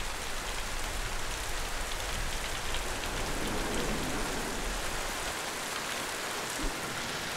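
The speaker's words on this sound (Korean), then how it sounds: "장마철이 시작되면서 집중호우가 찾아왔다." Heavy monsoon downpour pours down steadily as a dense, continuous hiss of rain on surfaces, with drops spattering close by and no voices.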